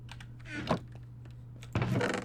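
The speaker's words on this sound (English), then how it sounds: "let me just type in lowercase" A few quick clusters of computer keyboard keystrokes, close and clicky over a steady low electrical hum, with a pause between two short bursts.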